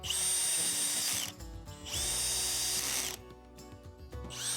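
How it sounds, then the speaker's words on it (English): A power drill drives pocket hole screws into a wooden frame in two long, high-pitched whirring runs, separated by brief pauses, with a third burst starting at the end, all close and loud. "I began assembling all of those frames together using glue and pocket hole screws, starting with the two side frames."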